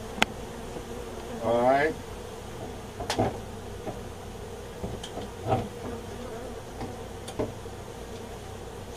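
Honey bees buzz faintly around a hive box during a house hive removal, a steady low drone with a few brief louder passes, while a person speaks briefly nearby.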